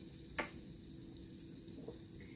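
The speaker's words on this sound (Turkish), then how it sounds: "Tavamızın içerisine ilk önce tereyağımızı ilave ediyoruz." Butter melts in a hot pan for no-bake chocolate oat cookies with a faint, steady sizzle, punctuated by two brief soft clinks or pops.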